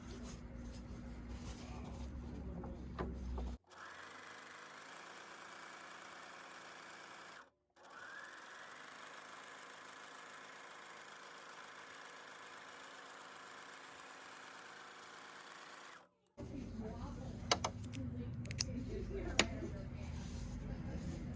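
A Juki MO654 serger runs a rolled hem in two long, steady stretches of whirring stitching with a brief pause between, close and even, framed by quieter handling and faint room noise at the start and end.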